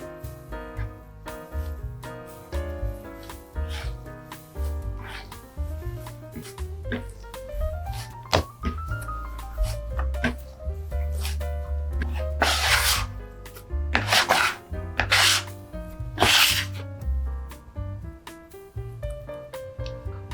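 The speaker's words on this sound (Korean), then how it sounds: "한 5분 정도만 손반죽 해줄게요." Baguette dough made with French T55 flour is worked by hand for a few minutes, with soft rubbing, slapping and pressing sounds under louder background music and no talk.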